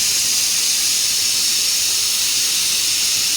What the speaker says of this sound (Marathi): त्याची शिट्टी काढून घेत आहे मी आता